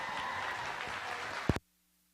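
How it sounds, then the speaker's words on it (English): Applause from an audience at a youth fair livestock show honoring exhibitors in a heavyweight class, a steady dense clapping that cuts off abruptly near the end. "Let's give all these exhibitors a big round of applause out here in this heavyweight class"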